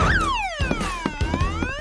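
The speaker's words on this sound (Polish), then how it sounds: "Wyłączę alarm." An alarm in a home wails with a rising then slowly falling electronic sweep, fairly loud and close, punctuated by several short thumps and knocks.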